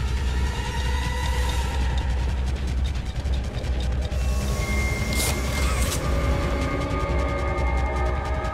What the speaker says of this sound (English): Train should be here shortly.